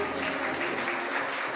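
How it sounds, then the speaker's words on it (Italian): Crowd applauding at the Miss Aurora 2025 beauty pageant selection at Villa Ferretti Angeli in Dolo, a steady mass of clapping with faint background music underneath. "quindi un applauso va a voi"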